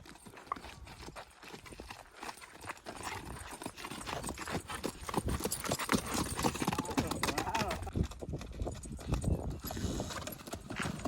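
A mare's hooves clip-clop in a steady rhythm at moderate distance, with occasional snorts and faint voices talking in the background.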